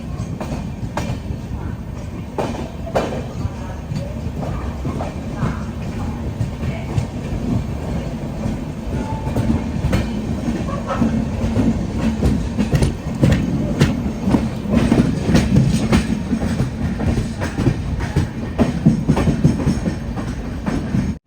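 An LHB passenger train runs on the Konkan Railway between Madgaon and Sawantwadi Road, heard from inside with a continuous rumbling roll, repeated rail clicks and a slowly building intensity.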